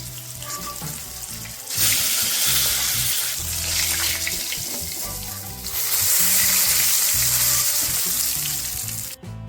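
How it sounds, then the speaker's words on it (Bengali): Fish pieces fry in hot oil for a Bengali ridge gourd fish curry, giving a loud, close, continuous sizzle that swells in two strong waves. "তো আমি কিন্তু একইভাবে বাকি মাছগুলোকেও ভেজে নেব"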